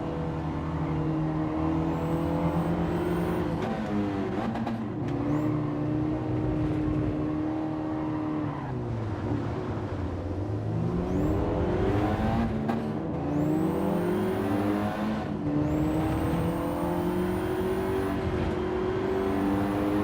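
Race car engine in Gran Turismo 7 during online lobby racing, a continuous loud whine rising and falling through upshifts and downshifts, with brief dips into corners and renewed acceleration.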